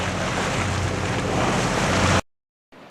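Westerly Fulmar sailing yacht motoring at sea: loud rushing water and wind noise over a low engine drone for about two seconds, then a sudden cut to near silence before faint wind returns.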